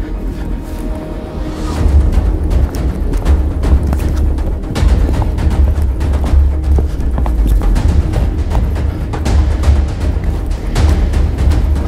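A horse moves over ground at an equestrian event, its hooves pounding out a steady, rhythmic clip-clop throughout with loud low thuds and background noise.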